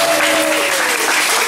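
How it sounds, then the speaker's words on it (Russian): A gathering of Russian-speaking immigrants at a Thanksgiving meeting applauds brother Ilya with loud, dense, steady clapping, and a faint sustained tone sits under it briefly at the start. "дайте мы ему похлопаем"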